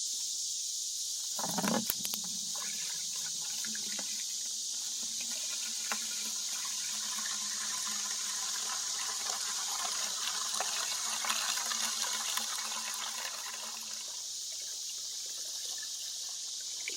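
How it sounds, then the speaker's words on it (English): Water from a well fills a clear tube for a homemade water level, a faint, steady trickling and hissing flow with a brief splash near the start, continuing quietly throughout. "let's go ahead and get this filled up with some water"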